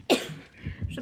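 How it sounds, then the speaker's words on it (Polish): A woman coughs once sharply and close, then follows with softer throat noises and breathy rasps. "Przepraszam, jeśli jeszcze trochę będę kaszleć."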